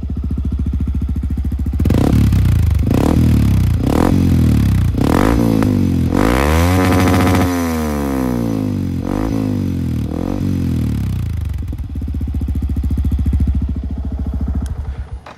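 Close and loud, a Yamaha WR 155 supermoto with a GP7 exhaust is blipped through a series of sharp revs, rising and falling several times before settling back to a rumbling idle.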